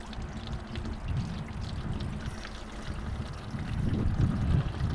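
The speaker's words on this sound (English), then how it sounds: "Now we're gonna rinse it in really cold water." Cold water runs steadily from a sink tap over brined salmon fillets being rinsed, a continuous splashing pour that grows slightly louder toward the end, with no talk.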